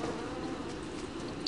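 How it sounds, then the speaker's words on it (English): Killer bees in Don't Starve give off a steady, close, droning buzz that holds at an even level throughout, with no speech over it. "That's a killer bee thing."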